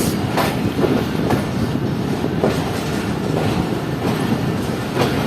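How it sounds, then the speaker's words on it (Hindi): The Allama Iqbal Express rolls in with a continuous rumble and rhythmic clickety-clack of wheels over rail joints, repeated clanks spaced through a steady, fairly close roar, and no voices. "ये आ रही है अल्लामा इकबाल एक्सप्रेस"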